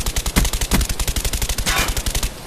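Rapid automatic gunfire rips through a Call of Duty Black Ops match, loud, continuous bursts of evenly spaced shots that fill the whole stretch.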